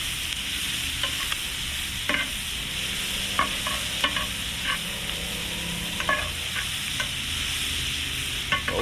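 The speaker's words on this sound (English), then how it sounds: "take your onions, drop them in there," Onions sizzle loudly in a pan after searing redfish, a bright steady hiss broken by repeated scraping stirs and clinks, close up with no voices.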